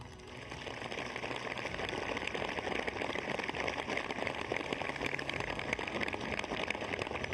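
Steady rain falls on an outdoor yoga event in Srinagar, a dense, even hiss of drops that stays constant and moderately loud throughout, with no voices over it.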